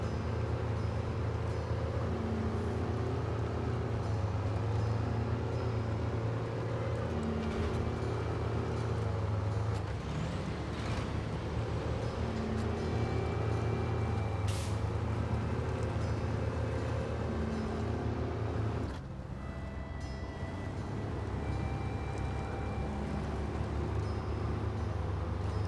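A truck on a standard gearbox ploughing off-road through mud in SnowRunner, a deep, continuous engine drone with churning, sloshing texture that drops in intensity near the end.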